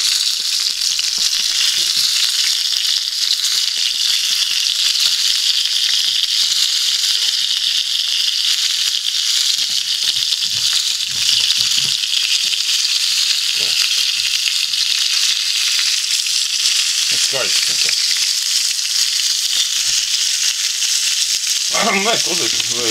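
Homemade chebureki and pelmeni dumplings frying in hot oil, a steady loud sizzle and crackle running throughout with occasional clinks and stirring noises near the end.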